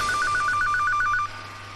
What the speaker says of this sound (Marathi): अरे फोन वाजायला लागलाय